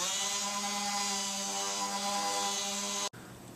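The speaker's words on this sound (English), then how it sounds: "I just finished sanding with 150 grit on everything, the top as well as our table" A power sander runs on a wooden table with 150 grit sandpaper, giving a steady, high whirring hum for about three seconds before cutting off abruptly, leaving a quieter residual hum.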